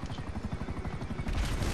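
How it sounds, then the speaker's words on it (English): Rapid automatic gunfire from a Grand Theft Auto V Online heist shootout at a prison break, a fast, even stream of shots that swells louder near the end. "Alright, now I'm shooting."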